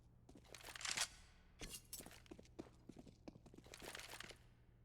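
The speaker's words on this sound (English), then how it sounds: "Can hear the footsteps in Palace here" Footsteps in the Palace area of Mirage in CS:GO sound as faint, irregular crunching steps with sharper bursts, quiet over a low steady hum.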